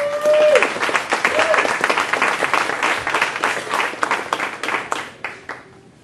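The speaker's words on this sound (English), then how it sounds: "one more round of applause for Dr. Laura Pressley." An audience at an anniversary party with live music gives a sustained round of applause that tapers off toward the end, with some voices and cheering under the clapping.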